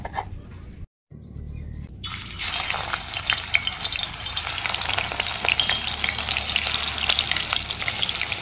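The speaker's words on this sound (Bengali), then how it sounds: "এবার টকের মাছটা লবণ হলুদ মাখিয়ে ভেজে নেবো প্রথমে" Shol fish pieces coated in salt and turmeric frying in a pan: a quiet start and a brief dropout, then a loud, steady, dense sizzle that continues close up to the end.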